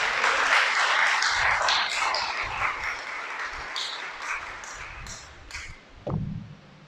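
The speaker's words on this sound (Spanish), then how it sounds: "Dale un aplauso al Creador." Clapping rises from a church congregation after a call to praise the Creator during a sermon, loud at first and gradually dwindling, with a sharp ping and a short low thump near the end.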